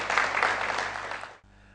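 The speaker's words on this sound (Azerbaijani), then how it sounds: "Alqışlarla yola salırıq Cavidanı." A studio audience bursts into steady applause to send off a quiz show contestant, loud and dense for over a second before cutting off abruptly.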